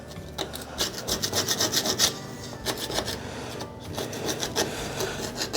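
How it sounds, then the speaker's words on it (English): A scraper rasps gunk off the drain plug of a 1964 Chevrolet C10 differential, a run of quick rhythmic scraping strokes, close and fairly loud, with a short pause midway and no talking. "scrape some of this gunk off."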